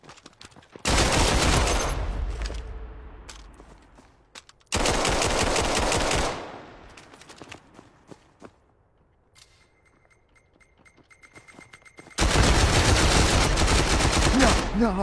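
Bursts of video-game pistol fire crackle loudly in three long rapid volleys, with quieter gaps of faint clicks and game sounds between them.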